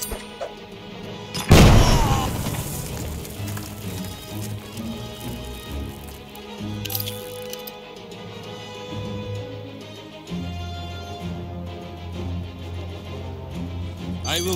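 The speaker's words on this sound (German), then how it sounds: "Granate!" A grenade explodes in the tactical game Jagged Alliance 3, a loud sudden boom near the start that decays into crackling debris and rumble, with game ambience and distant impacts continuing afterward.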